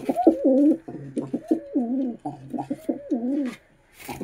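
Pigeons coo close by in repeated rolling, throaty phrases that overlap and run almost without pause, then trail off near the end.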